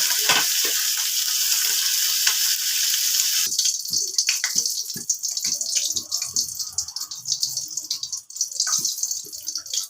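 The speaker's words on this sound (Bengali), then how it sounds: "এই লোহার কড়ার মধ্যে না মাছ খুব সুন্দর ভাজা হয়" Fish frying in an iron kadai, a steady close sizzle of hot oil with bursts of spatter and occasional clinks of stirring, quieter and more broken in the second half; no talking.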